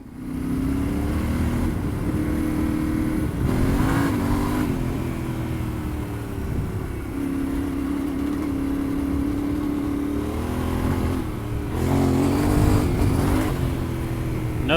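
A Yamaha Tenere 700 motorcycle on Tusk 2 Track tires climbs a hill in third gear without the clutch, its engine droning steadily with a few rises and dips in load, close to the rider and free of talk.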